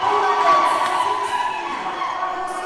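A crowd cheers and shouts for a hometown lifter after a successful 252.5 powerlifting lift at the Luzon Cup 2025; the sustained roar stays loud throughout and slowly eases toward the end.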